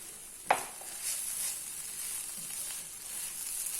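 An onion mixture sautés in a pan, a soft steady sizzle with a sharp spatula scrape at the start and light stirring scuffs, quiet and close.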